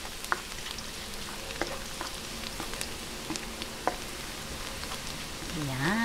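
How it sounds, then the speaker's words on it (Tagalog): Garlic sautés in a pan as the start of a pork menudo, giving a steady soft sizzle and crackle, with scattered light clinks and scrapes of a utensil stirring. "umpisahan na po natin yung paggigisa. Unahin po natin ang bawang hanggang sa mag-light brown"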